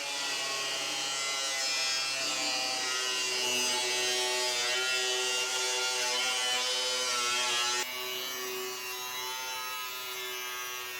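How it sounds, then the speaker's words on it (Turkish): A power tool cuts through a metal barrel to split it in half, giving a steady, loud grinding whine with a buzzing tonal hum that holds for about eleven seconds and drops slightly in pitch near the end. "Şimdi varili ikiye ayırmaya hazırız."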